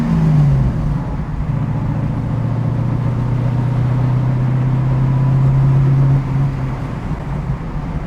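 A 1967 Pontiac Firebird on its first drive, its engine droning close and loud at a steady pitch that rises briefly then settles into a long even cruise before easing off near the end.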